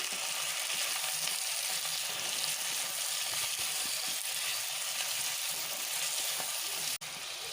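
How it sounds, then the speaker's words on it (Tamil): Onions and three chopped tomatoes, lightly salted, sauté in a pan for a Chettinad country chicken curry. They make a steady, close sizzle with faint stirring scrapes and no talking. "தக்காளி ஒரு சைடு நல்லா வதங்கிட்டு இருக்கு."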